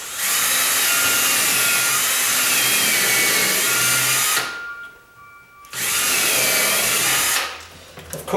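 A loud impact drill driving screws into a garage door whirs steadily in two long bursts separated by a brief pause, close and continuous, with no talking.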